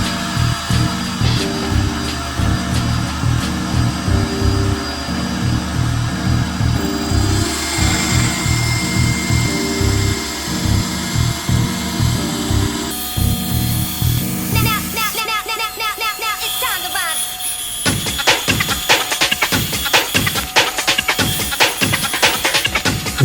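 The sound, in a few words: bandsaw cutting G10 fiberglass sheet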